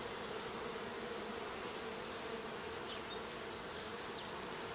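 Honey bees buzzing steadily inside a hive, a continuous even drone that stays at one level throughout, with a few brief higher-pitched buzzes passing close by near the end.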